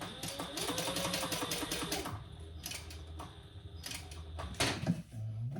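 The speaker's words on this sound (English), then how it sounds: "we're going to stitch along the bottom and along the sides and top" Sewing machine stitching a fabric sling, with close rapid mechanical bursts of running stitches that pause briefly and start again.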